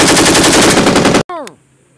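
Rapid M16 rifle fire during a U.S. Marine Expeditionary Unit range exercise, a loud dense burst of shots that stops abruptly and is followed by a brief echoing ring and a short metallic clink.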